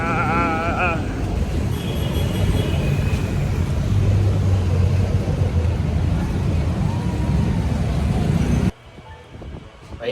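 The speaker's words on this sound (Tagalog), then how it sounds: "Sasakay na po tayo ng tricycle." Tricycle ride through street traffic in Tondo, Manila, with loud, continuous engine rumble and road and wind noise up close, a brief voice at the start, before the sound drops away abruptly near the end.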